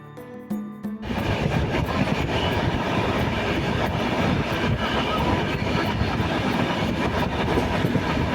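A passenger train near Renigunta station in India rolls along the rails with a loud, steady rumble and rattling clatter that surges in after a quieter first second and continues without voices.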